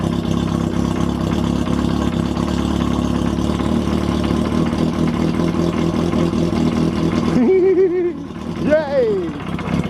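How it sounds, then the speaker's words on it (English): A Kawasaki Z750 motorcycle with a freshly installed motor idles loudly and steadily close by, then its tone shifts near the end as voices break in. "Now with a new motor you don't rev it, just let it idle."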